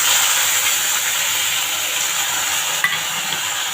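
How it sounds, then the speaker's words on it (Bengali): Onion and garlic fry in hot oil in a wok after a tempering of dried red chilli and five-spice seeds, giving a loud, steady sizzle and hiss with one short scrape of stirring near the end. "আমি এবার পেঁয়াজ আর রসুন দিচ্ছি।"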